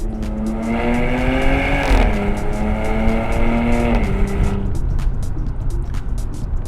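A nearby Porsche Cayenne S Coupe engine holds a steady drone, then pitch steps down with each downshift, settling into a lower burbling exhaust with light crackles at the end.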